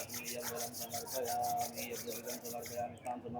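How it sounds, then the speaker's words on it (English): Palms rubbed together during a yoga session for hypertension: faint, close rhythmic swishing strokes, fairly even and quick, stopping near the end. "Now gently rub your both palms."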